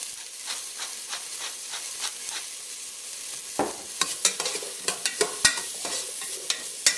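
A Caribbean fish broth base, with freshly ground black pepper added, sweats gently in a pot and gets stirred. The sizzle and hiss run steadily throughout, and a series of scraping clinks from the spoon come in during the second half.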